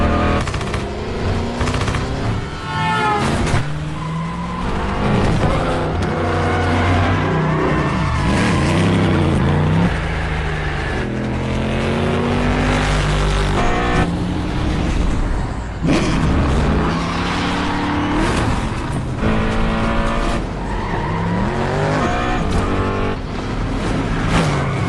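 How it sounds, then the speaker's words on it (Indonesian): A car chase from the action film The Expendables, with roaring engines revving and accelerating, cars passing, tyres skidding and gunfire, layered under a dense, loud, continuous film score and effects mix. "Barney langsung menginjak gas dan kabur dari sana"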